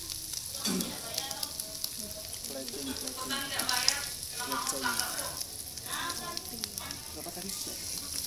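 Barbecue meat on an outdoor grill sizzles and crackles steadily while it is turned over, with a few soft knocks and scrapes as the pieces are flipped. A voice speaks faintly now and then.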